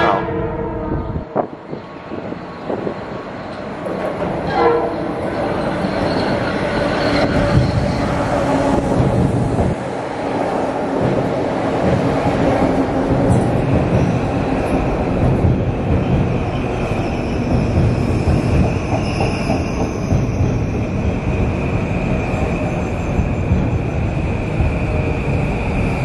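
Two trains pass at once at Harlem 125th Street station in New York, with a long, loud rolling clatter and some squealing from the wheels, and a horn sounding briefly near the start.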